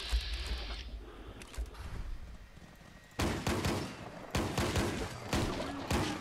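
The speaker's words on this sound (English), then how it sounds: "It's called military combat shotgun." A military combat shotgun fires in a video game: quiet clicks and handling at first, then loud, blasting shots in separate bursts that end in a rapid run of fire.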